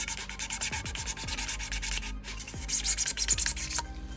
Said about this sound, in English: I'll always get a little bit of sandpaper and just sand any burrs